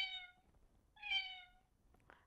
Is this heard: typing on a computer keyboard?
no